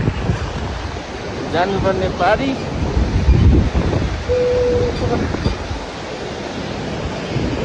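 The Dudh Koshi river rushes below a high-altitude trail on the Everest Base Camp trek, a constant broad roar mixed with gusting wind on the microphone while a person speaks briefly over it.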